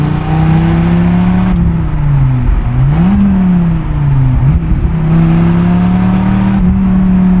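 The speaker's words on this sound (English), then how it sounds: "the throttle response is so unbelievably brutal" A Dodge Viper's big engine revs hard and loud on the throttle, a steady close roar with its pitch dipping and climbing through several blips, with no other sound over it.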